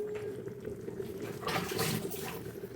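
Water poured into a pan of chicken and mushroom lemon pepper curry, a steady close splashing pour that swells midway, with no talk over it.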